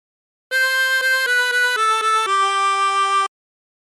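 La Cucaracha played on a 24-hole tremolo harmonica, a run of bright, wavering reedy notes, the first repeated and then stepping downward to a longer held tone, close and alone.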